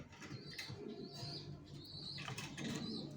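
Racing pigeons in a loft, soft repeated cooing calls over a busy background of fluttering wings and shuffling birds, close and continuous.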